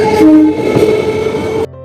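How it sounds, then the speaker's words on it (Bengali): A train pulls away from a station in Bangladesh, sounding a sustained horn note over a rumbling roar before the noise drops off abruptly near the end. "দাঁড়াও বলছি ট্রেনটা যাক"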